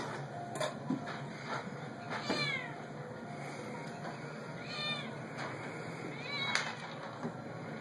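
A house cat meows several times at intervals, short rising and falling cries against a steady mechanical hum, fairly faint and indoors.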